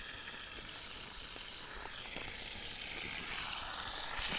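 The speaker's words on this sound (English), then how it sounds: "Burgers are sizzling." Burgers sizzle steadily in a pan over a campfire stove at a woodland wild camp, a continuous bright frying hiss that swells slightly toward the end, with no voices.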